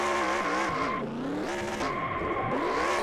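A race car spins through a victory burnout at Talladega in a racing game, tires squealing in long wavering wails while the engine revs and drops in pitch, loud and close with no talk.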